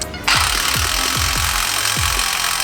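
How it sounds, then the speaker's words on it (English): An impact wrench hammers a replacement wheel stud into a car hub, a loud continuous rattling buzz with rapid repeated blows after a brief quiet start, heard up close. "I'm going to hit it one more time with the impact"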